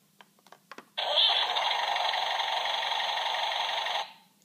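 A Mack toy truck from the Cars film plays an electronic engine-start effect: a few small clicks, then a steady rattling engine hum lasting about three seconds before cutting off, with no talking.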